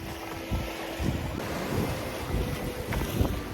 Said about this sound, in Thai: ดูมีเสียงคลื่น